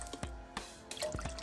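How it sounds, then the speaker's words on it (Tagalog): Water dripping and splashing into a pan while pork pancit is being cooked, heard as a few distinct, fairly faint drips and small splashes spread across a quiet kitchen background. "Lagyan na natin ng tubig."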